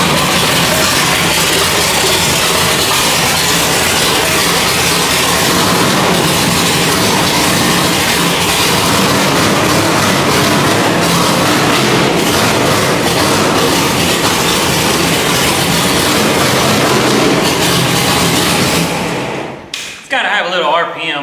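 The engine of a custom rock bouncer runs loud and close for a long steady stretch, a dense roaring drone with knocks from the hydraulic steering working underneath, before dropping away at the end; a voice speaks briefly.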